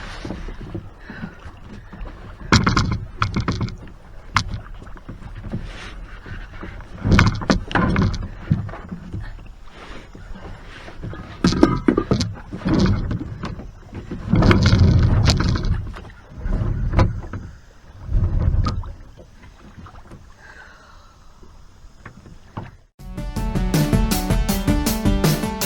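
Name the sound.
kayak paddling on Lake Greeson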